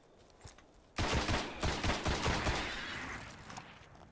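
Gunfire in the shooter Destiny: after a faint lone shot, a rapid burst of repeated shots erupts, loud and punchy with echoing tails, then thins into scattered reports over lingering reverb.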